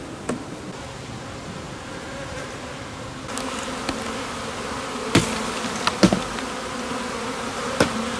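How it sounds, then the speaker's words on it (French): Honey bees buzz around a beekeeper's hive on Tetiaroa in French Polynesia, a steady faint drone with a few sharp close passes and clicks, no voices. "Un apiculteur qui fout toutes ses abeilles dehors."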